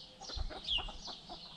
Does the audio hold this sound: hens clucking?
yes